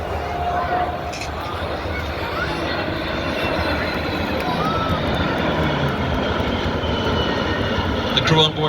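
A PC-9 propeller aircraft at full power climbs away at an air show, making a loud, steady engine roar that fills the whole stretch.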